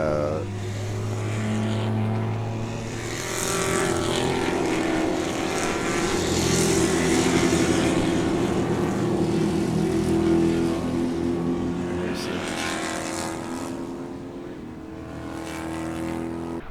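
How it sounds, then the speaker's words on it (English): Spec Corvette race cars at a Daytona road race, a loud sustained engine roar as a pack passes, rising and falling with layered tones from several cars, with no talking. "here comes your Spec Corvettes"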